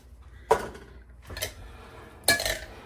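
A spoon folds Mediterranean chickpea salad with feta in a bowl, giving three distinct clinks and scrapes against the bowl spaced about a second apart, close by and moderately loud, with no voices.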